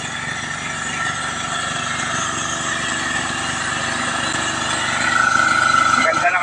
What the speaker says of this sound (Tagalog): Pero yung makina, pabayaan mo nakabirit.